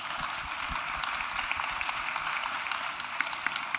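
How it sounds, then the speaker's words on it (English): Audience applause for panelists at the close of a discussion, a fairly faint, steady patter of clapping with no one talking. "Can we have a round of applause?"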